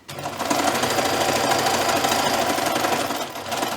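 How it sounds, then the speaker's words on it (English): A sewing machine stitching binding tape over a terry cloth edge, a loud, fast, continuous mechanical rattle and motor drone heard up close for several seconds. "And then when we get to the end, we back stitch, and we've just finished off that raw edge."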